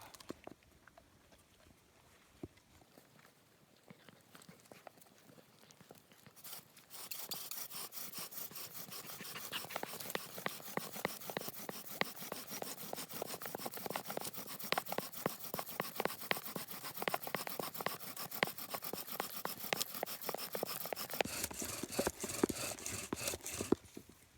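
Rapid rhythmic rasping of a wooden bow drill spindle grinding on wood in the rain, starting faint, then building into steady, vigorous back-and-forth friction that continues for a long stretch.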